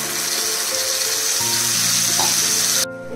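Masala of Kashmiri chilli, cumin powder, coriander powder, salt and turmeric frying in hot oil with kalonji and green chillies in a pan for tangra fish curry, a loud steady sizzle that cuts off abruptly near the end.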